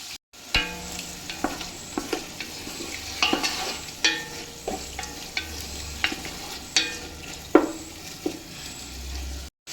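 Beef pieces fry with garlic in a pot for Afghan beef pulao, producing a constant sizzle broken by frequent clinks and scrapes of a spoon stirring the meat at close range.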